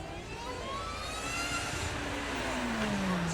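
An Ariel Atom supercar drives past at the Beaulieu Supercar Weekend, its engine note sweeping steadily downward as it passes close by over a broad background rumble, with no talking.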